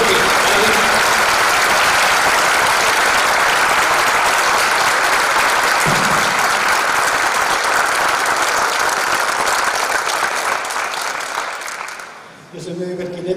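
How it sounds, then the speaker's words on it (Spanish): Loud, dense audience applause welcoming a writer onto the stage at a public conversation event, a steady roar of clapping that fades out near the end as a voice begins speaking. "Lo recibimos con un gran aplauso a esta hora, el señor Jorge Adler"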